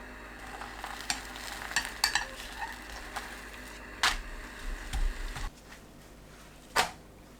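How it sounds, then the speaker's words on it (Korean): A faint, soft sizzle comes from an egg cooking in a 24 cm frying pan over very low heat, broken by a few sharp utensil scrapes and taps. "아주 약한 불로 계란을 익혀주세요."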